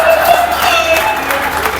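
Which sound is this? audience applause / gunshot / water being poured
audience applause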